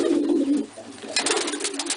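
An injured pigeon with a damaged air sac coos in low, throaty bursts while being held and handled for treatment, close up and fairly loud, with faint handling noise between the calls.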